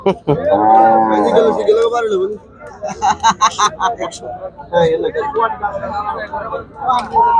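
A cow moos loudly and close at a busy village cattle market where dairy cows are being sold, one long low call at the start, followed by people talking and laughing nearby.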